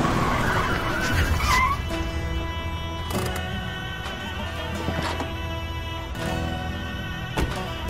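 A car rolls up with a brief tire squeal around the first two seconds, then idles and settles to a stop; a steady low engine hum and street ambience continue to the end with no talk.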